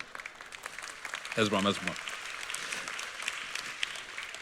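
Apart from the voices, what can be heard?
audience applauding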